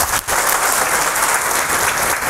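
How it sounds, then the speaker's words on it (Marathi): A crowd at a job fair gathering claps loudly for a college principal, a thick, steady roar of applause that fills the space from start to finish. "त्यांच्यासाठी मनापासून एक वेळा जोरदार टाळ्या वाजून द्या."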